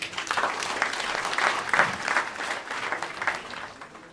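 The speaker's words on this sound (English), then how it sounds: "Let's clap ourselves." Diaspora engagement event audience clapping for themselves, a sustained round of applause at moderate volume with pulsing swells and no clear speech over it.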